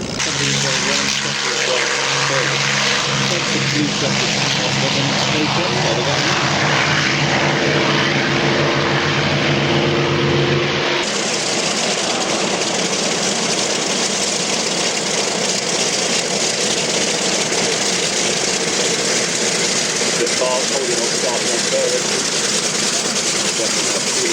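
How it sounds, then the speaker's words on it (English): Vintage aircraft engines start up and run at the Duxford air show, a loud continuous propeller-engine roar with a distinct shift in tone partway through, heard up close with no one speaking. "Eventually he's got his engines fired up."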